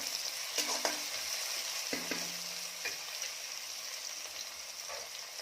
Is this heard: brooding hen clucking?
no